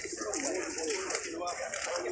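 Pigeons coo softly and repeatedly at an outdoor fair market in Kropotkin, their rolling calls close and steady over a bed of faint crowd noise.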